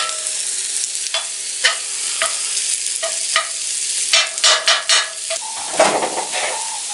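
Onion and nuts fry in a hot pan while being stirred, a loud steady sizzle broken by repeated scraping and clinking strokes of the utensil against the pan.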